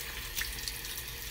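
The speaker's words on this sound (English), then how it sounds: "And now I'm gonna rinse it off." Tap water runs steadily into a bathroom sink during a rinse, a soft continuous splashing rush heard close by without any talking.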